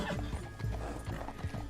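Horse hooves clip-clop in Red Dead Redemption 2 near Fort Mercer: a steady run of close, fairly loud thuds at an uneven walking rhythm, heard alone without talk.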